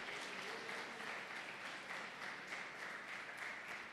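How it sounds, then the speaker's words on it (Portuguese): A church congregation applauds during a worship service, steady broadband clapping from many hands sustained throughout without a break, moderately distant and fairly quiet with no voices over it. "Você pode aplaudir o nome do Senhor?"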